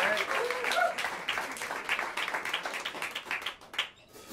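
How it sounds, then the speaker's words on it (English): Warm applause and clapping from the audience at a small jazz club for the drummer, fairly close and steady before tapering off near the end. "give a warm round of applause"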